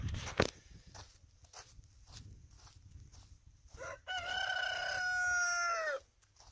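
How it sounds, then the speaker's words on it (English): A rooster crows once, loud and drawn out, near the end of the stretch, while chickens cluck and footsteps crunch on a farm during morning chores. "Just going and seeing how the chickens are doing."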